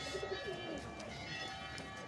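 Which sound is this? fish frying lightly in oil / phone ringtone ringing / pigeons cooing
pigeons cooing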